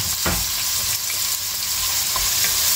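Onion going into oil for a beef paya masala and frying with a steady, loud sizzle and stirring scrapes, with no talking.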